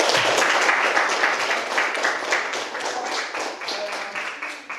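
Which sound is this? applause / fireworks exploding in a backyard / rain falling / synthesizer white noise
applause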